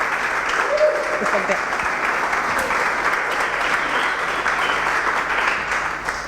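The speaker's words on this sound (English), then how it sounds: "Applause for everyone." An audience at a Berlin hackathon winners' announcement claps steadily for several seconds at moderate volume, with a brief spoken remark over the applause.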